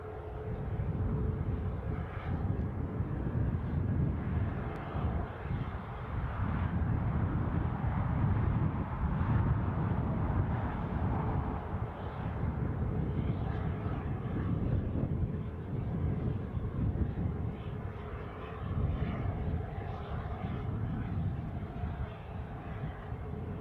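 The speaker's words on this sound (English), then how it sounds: "easyJet A320 Neo from Belfast." An easyJet Airbus A320neo at Newcastle International airport: a steady, broad jet engine roar with wind rumble, continuous and moderately loud throughout, with no clear voices.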